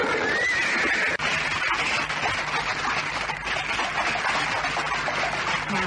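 A horse neighs near the start of a horse-drawn cart scene, followed by continuous clopping hooves and rolling cart noise, loud and close, with no talk over it.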